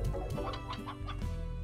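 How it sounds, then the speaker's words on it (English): Chickens under a porch in the video game Slime Rancher cluck in a quick, steady run of short calls, close and clear, with no talking. "I forever have ghost chickens under my porch."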